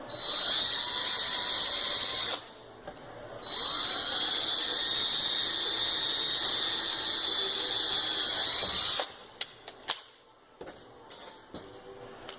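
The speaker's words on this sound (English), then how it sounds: "to make a pilot hole so the other drilling doesn't take near as long." A power drill boring a pilot hole during a fuel pump install on a BMW N54 whines steadily at high pitch, pauses briefly, then runs again for several seconds before stopping, followed by a few clicks and handling noises.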